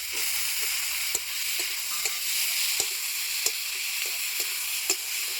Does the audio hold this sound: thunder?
no